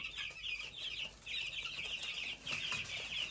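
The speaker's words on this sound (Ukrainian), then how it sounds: "Курчата галасують, метушаться, шукають корм, шукають водичку" Young chicks in a cage cheep and fuss in rapid, high-pitched bursts, close by and continuous with brief gaps, over a faint rustle of movement.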